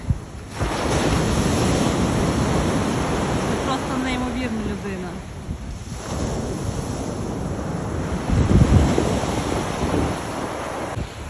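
Loud wind and crashing sea waves roar continuously in snowy, near-freezing weather, with gusts buffeting the microphone and a voice briefly heard over the surf.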